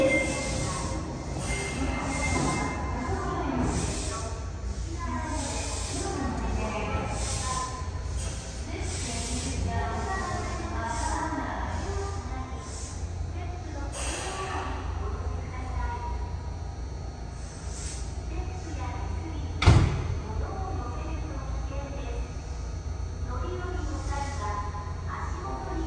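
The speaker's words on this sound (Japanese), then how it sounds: "1番ホームから真駒内行きが発車します。" A subway train bound for Makomanai departs platform 1 at Asabu station, Sapporo, on a weekend evening during track renewal works. Rumbling wheels and squealing rails run under repeated platform announcements, with a sharp clank near the end.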